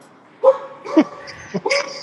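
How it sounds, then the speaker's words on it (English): Several short barks and yips from dogs in quick succession, close and fairly loud, with some whining tones between them. "My dogs are all barking."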